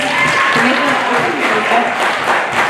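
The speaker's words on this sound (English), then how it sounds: "How about a big round of applause for Mr. Rock's Jazz Band?" A school pep-rally crowd claps for a jazz band in a short burst of steady applause, with voices mixed in among the clapping.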